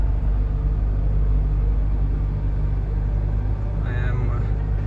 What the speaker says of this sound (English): You see, I'm driving through sand right now.